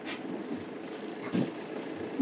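Eurotunnel shuttle train carrying a motorhome gives a low, steady rail rumble heard from inside the vehicle, with faint rhythmic knocks and a rising clunk at the very end.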